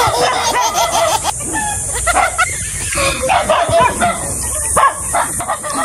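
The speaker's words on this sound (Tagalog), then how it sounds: "nilulusob na kami ng mga aso" Dogs bark repeatedly in a mountain area as survey workers climb a slope, a busy mix of sharp, close barks and yips with a rooster-like call, fairly loud, with some voices mixed in.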